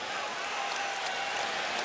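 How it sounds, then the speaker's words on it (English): Sustained crowd applause at an NBA game as Golden State's MVP Steph Curry checks out against the San Antonio Spurs, a dense, steady wash of clapping and crowd noise that holds at even loudness throughout. "the round of applause for the MVP"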